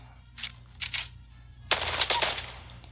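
R-99 submachine gun fire in Apex Legends, heard as three rapid automatic bursts: two short ones close together, then a longer, louder string of shots.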